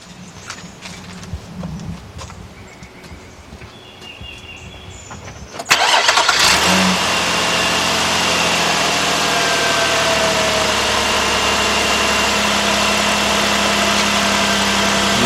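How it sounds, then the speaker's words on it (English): A 2007 Nissan Murano 3.5 V6 cranks after a few quiet seconds, catches abruptly and settles into a loud, steady idle hum that continues to the end. "guys, I got the key. Let's go start this up."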